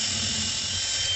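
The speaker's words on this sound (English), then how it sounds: "Keeping your drill straight." Power drill with a bit boring steadily through a template, a loud, close, continuous high whine with no pauses.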